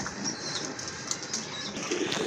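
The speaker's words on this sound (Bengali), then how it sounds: "আরেক জোড়া কবুতর দেখেন, খুবই সুন্দর, অনেক বড় সাইজের কবুতর" Large pigeons in a loft coo softly among a steady background of ambient noise, with a few low murmuring calls and faint chirps, fairly quiet and without talking.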